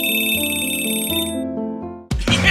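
A cartoonish phone ring tone plays in a Roblox animation, a bright looping electronic chime that cuts off abruptly, followed by a short burst of noise.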